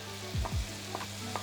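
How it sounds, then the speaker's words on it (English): Bacon and onions in butter sizzling in a pan, a soft steady frying hiss with a couple of brief louder scrapes from stirring near the start, no talking. "This has been sizzling for 5 minutes now"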